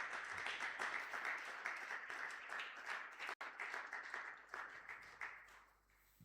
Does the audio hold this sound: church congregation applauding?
yes